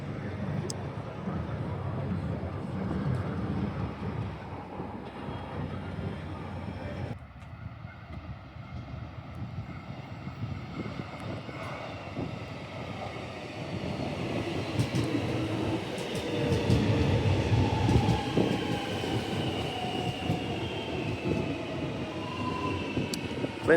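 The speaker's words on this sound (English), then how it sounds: "There's a train right there." A Melbourne train at Belgrave station rumbles nearby, its drone and rolling wheel noise changing as it moves, with faint squeals and distant background sounds.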